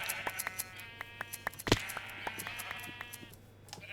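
Sheep in the Minecraft video game bleat in short repeated game-sound calls, one louder thump-like burst midway, over a faint steady hum, quick rhythmic sequence close up, no voices.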